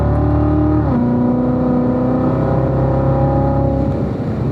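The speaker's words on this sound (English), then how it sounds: "In tight to the apex here, and then accelerate out." Race car lapping a track: a loud, close engine drone with a pitch drop as it comes off the throttle, then a steady rising whine as it accelerates out of the corner, no talk.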